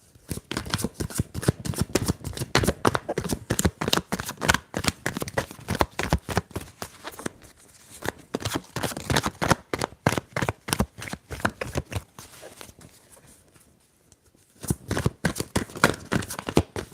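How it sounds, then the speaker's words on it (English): Rapid, dense tarot card shuffling close to the mic, crisp riffling bursts repeating with a brief pause near the end. "Let me know if you can hear the shuffle as well."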